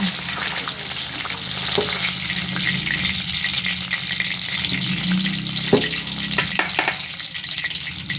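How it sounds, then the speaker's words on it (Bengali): Katla fish pieces fry loudly in hot oil, giving a dense, continuous close-up sizzle with scattered crackles and pops and occasional utensil clinks. "এখানে মাছ ভাজাটা কমপ্লিট হয়ে গেছে"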